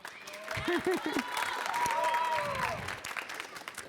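A school audience at a Unity Christian combo night claps for Joel, a soft, steady spread of applause with some faint voices mixed in.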